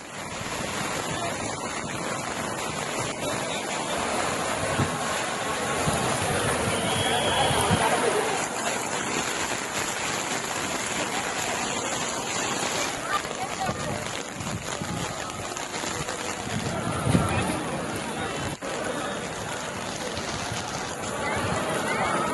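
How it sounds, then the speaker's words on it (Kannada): Heavy monsoon rain pours steadily over Tirumala, with rainwater streaming along the roads and ghat road. A dense, continuous roar of rainfall and rushing water holds at a steady level throughout, with wind buffeting in places. "ತಿರುಮಲದಲ್ಲಿ ಭಾರಿ ಪ್ರಮಾಣದಲ್ಲಿ ಮಳೆಯಾಗ್ತಾ ಇದೆ"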